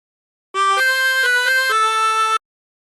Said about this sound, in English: how to play it on a chromatic harmonica